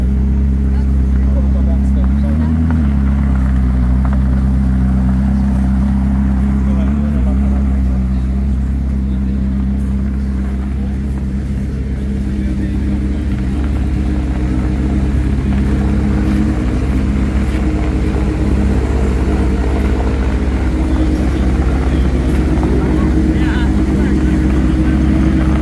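A 1600 HP Koenigsegg Agera makes a run at a car event: a steady, loud low engine drone holds throughout, with people talking over it.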